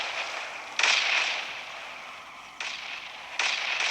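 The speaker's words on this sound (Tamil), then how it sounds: "ஐயோ, பக்கத்துலேயே பாம்பு வெடிக்குது." Three loud, close bomb explosions in the video game Hopeless Land burst out at uneven intervals, each with a sharp onset and a hissing decay, with no talking.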